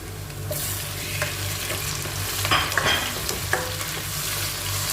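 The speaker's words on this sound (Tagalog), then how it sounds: "Gisa lang natin siya" Tomatoes being sautéed in a pan for pinakbet: a steady hiss of frying with scraping stirs and occasional clinks of a utensil, close and continuous, with a low hum underneath.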